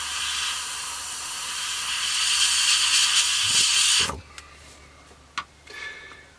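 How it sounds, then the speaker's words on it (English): An airbrush at very low air pressure sprays paint onto a 1/48 scale Hobby 2000 P-40N Warhawk model, a steady close hiss lasting about four seconds before cutting off, followed by a few faint clicks. "So I clean the airbrush out and we'll get the green on."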